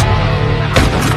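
Dense, loud gunfire from a zombie film shootout, a dense blast with a sharp crack near the end, close and overwhelming, no voices.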